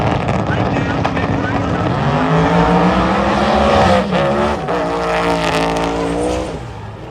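Drag racing cars launch down the strip at Byron Dragway, a loud sustained engine roar rising and falling in pitch as the cars accelerate and pass, with a voice talking over it.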